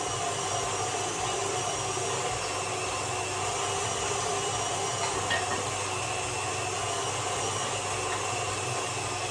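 A KitchenAid metal food grinder attachment grinds lamb, onion and mint with a continuous, steady motor whir and drone, heard alone without speech at moderate loudness.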